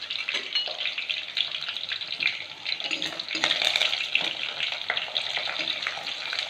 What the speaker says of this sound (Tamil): பூண்டு வந்து கொஞ்சம் ப்ரௌனாக இருந்தால் டேஸ்ட்டாக இருக்கும்.